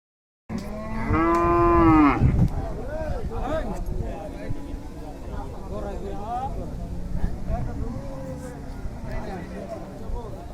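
A cow lets out a loud, drawn-out moo up close at a cattle market before Eid, followed by the chatter of a crowd and more low lowing from cattle nearby.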